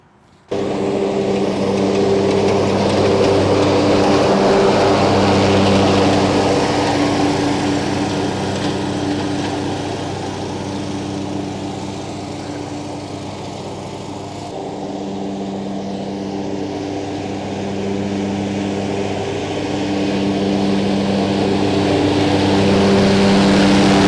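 A Gravely Pro-Turn 360 zero-turn mower drives down and back on rough ground, its engine a loud, steady drone with a low harmonic hum that dips slightly midway and then swells again, with no talking.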